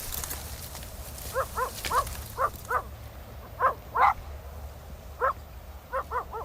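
A dog barks repeatedly at a distance in a sugarcane field, sharp yelps coming in small clusters and single barks against a steady low outdoor hum.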